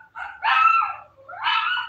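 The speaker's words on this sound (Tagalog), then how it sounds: "Maingay yung aso ko." A dog gives two close, whiny barks or yelps in quick succession, loud and alone against a quiet background.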